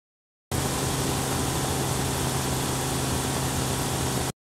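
A looping engine sample plays in an FMOD adaptive engine demo, a steady, unchanging mid-to-low rumble that holds at constant pitch and loudness for several seconds before cutting off cleanly, with no talk.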